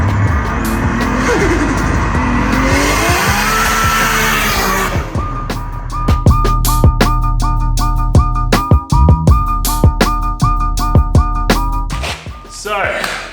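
Nissan R32 engine running after a rebuild: a loud, close rumble with rising and falling revs and squealing, crackling tones. The sound is continuous throughout, and a voice is heard briefly over it.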